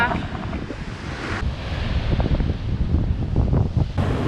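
Clear sea water at Dubrovnik, Croatia, washes up onto the shore in a close, continuous rush and swirl, mixed with gusty wind noise on the microphone.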